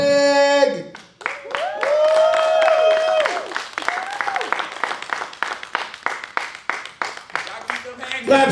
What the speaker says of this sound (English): Claps going.